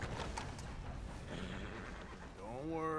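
Horse neighing in Red Dead Redemption II, a whinny rising near the end over a steady game ambience with faint hoof clops, with no talk over it.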